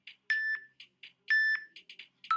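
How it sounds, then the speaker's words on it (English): A workout interval timer beeps in a repeated pattern of short and longer electronic tones, loud and clear with silence between, during a home squat workout. "You heard that timer go off."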